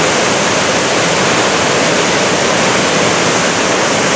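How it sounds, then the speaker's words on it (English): Silver Falls at Mount Rainier pours with a loud, steady roar of falling water, heard up close with no break and no talking. "You can just feel the thunder of the water against your chest right here."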